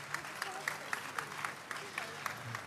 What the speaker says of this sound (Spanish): Vamos a dar un aplauso a Jesús.